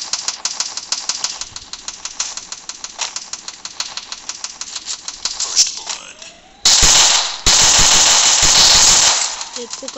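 Rapid bursts of MP5 submachine gun fire in the mobile shooter Free Fire, a clash squad match, with a fast rhythmic stream of shots followed by louder, denser gunfire and game effects near the end.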